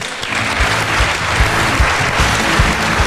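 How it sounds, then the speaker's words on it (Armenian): A studio audience on a television program applauds a guest in loud, sustained clapping with thumping beats that fills the whole clip, with no voices heard over it. "Ծափարում ենք քեզ"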